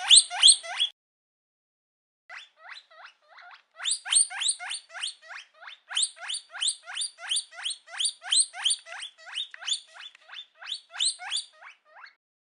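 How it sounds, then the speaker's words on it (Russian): A guinea pig squeaks in rapid high chirping bursts, one short group first and then long rhythmic runs of squeals after a pause, clear and close with no talk. "Это морская свинка, правильно!"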